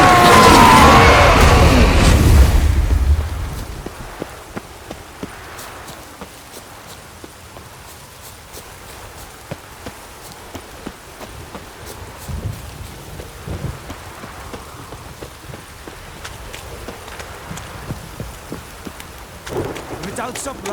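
Steady rain falling in The Witcher 3, a dense hiss with scattered drop patter throughout, opening with a loud burst of thunder or heavy downpour that settles into a softer continuous shower.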